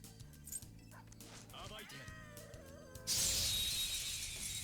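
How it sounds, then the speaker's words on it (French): Dogs bark and yip during Persona 5 Royal gameplay over talk and game music, followed by a loud crash and a burst of harsh noise. "Toujours un enfer les chiens dans les jeux vidéo."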